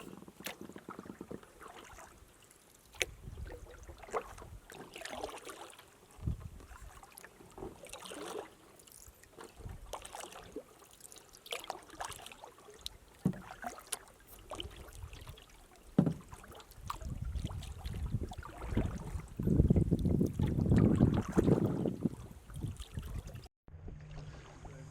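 A canoe paddled on a calm lake between portage stretches, soft repeated paddle strokes and water swishes and drips close by, growing louder and splashier toward the end.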